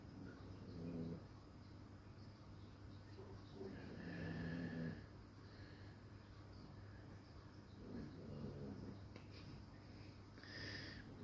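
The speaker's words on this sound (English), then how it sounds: "Dogs are snoring." Dogs snoring softly indoors, a few separate low rasping breaths spaced several seconds apart over a quiet room with a steady low hum, faint and close.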